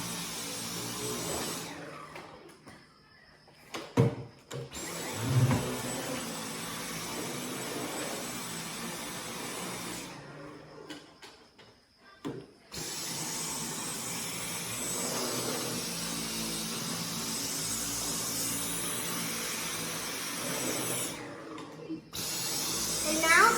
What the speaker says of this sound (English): now I'm going to vacuum the sides of this middle table